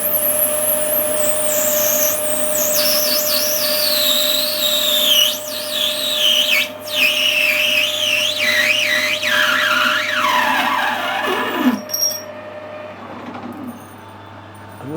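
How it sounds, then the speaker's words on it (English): A lathe parting tool set at centre height and square to the work cuts a slice off brass bar stock, giving a loud, steady high whine with wavering tones that drops away near the end as the washer parts off. "We'll see if we can cut a slice off this piece of brass."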